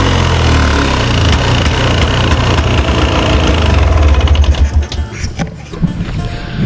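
A Polaris Scrambler ATV engine idles roughly with the gas turned off, a loud close low rumble that turns uneven and stumbles, pulsing and sputtering toward the end as it runs sleepy on the low end.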